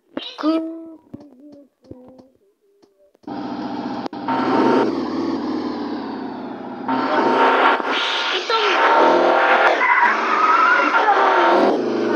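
Car in the video game Chicken Gun, a loud whining engine with skidding tire squeal following a short stretch of speech and silence.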